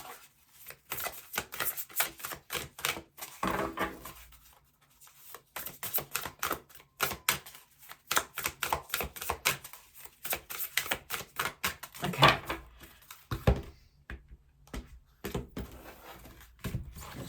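Oracle cards being shuffled by hand, a long run of quiet, crisp riffling and flicking bursts with brief pauses between, close by and without talk.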